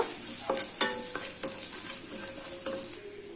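Garlic and ginger sauté in a pan for a Kerala jackfruit seed masala fry, a soft steady sizzle broken by several scraping stirs of a spatula against the pan.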